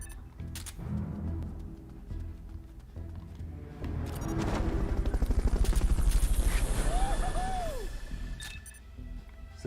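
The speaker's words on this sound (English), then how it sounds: "Fulton recovery helicopter is complete." Helicopter rotor noise from the Fulton recovery chopper in the video game Metal Gear Solid: Peace Walker, a steady thudding drone that swells louder midway, with a brief rising-falling whine and clinking game effects.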